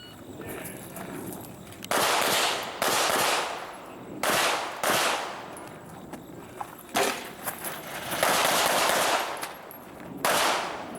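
Gunfire at an IDPA pistol match at Mecklenburg Wildlife Club: several loud bursts of rapid shots with short pauses between strings, fairly close, with outdoor echo and no talking.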